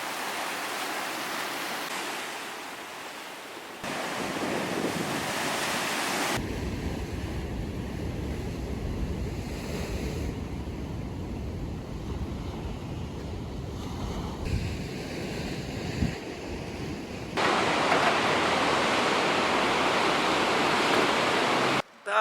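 Atlantic ocean waves and wind at Mar del Plata, a broad continuous roar of surf and gusting wind across the microphone, rising and falling in sections, loud and with no voices.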